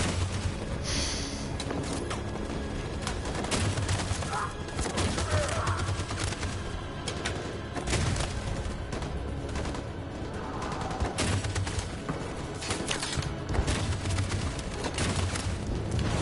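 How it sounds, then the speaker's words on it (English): Machine gun fire in a video game battle, sustained rattling bursts of automatic shots with scattered louder reports, steady and fairly close throughout, without talking. "That machine gun is taking down everything that moves!"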